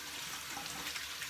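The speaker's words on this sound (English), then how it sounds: "Wash the hands." Water runs steadily from a tap into a sink while hands are washed during a wet shave, a soft continuous splashing hiss with no voices.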